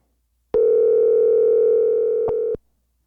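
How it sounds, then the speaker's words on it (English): A telephone dial tone on a call placed over Bluetooth, one steady electronic hum lasting about two seconds with a brief glitch near its end, clear and alone before it cuts off. "Let me go ahead and dial her up, and we'll get our call started here."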